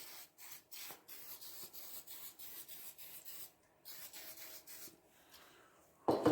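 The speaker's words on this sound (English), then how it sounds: "take this stuff, glide coat by Acoustic, spray it onto the surface" Short bursts of hissing glide coat spray repeat onto an acoustic guitar's wooden top against a faint rubbing background, with a louder sharp burst at the end.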